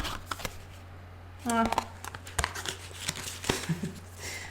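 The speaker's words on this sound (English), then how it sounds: "I'm shuffling and waiting for 3 cards to pop out." Tarot cards being shuffled in a quick riffle, followed by soft taps and rustling in a quiet room, with no talking.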